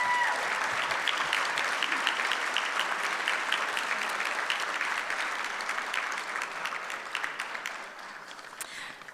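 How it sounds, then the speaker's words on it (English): A crowd at a heroes gala gives a sustained round of applause, a thick, even roar of clapping lasting about nine seconds that thins and fades slightly toward the end. "Please give her another round of applause."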